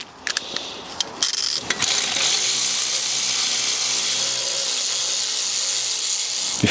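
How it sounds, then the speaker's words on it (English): A ratchet with an 8mm Allen socket works the caliper slide bolts on a BMW F20 during a brake pad and disc change, with sharp clicks and knocks early, then a steady mechanical whir. "the slide bolts themselves take a 8mm Allen socket"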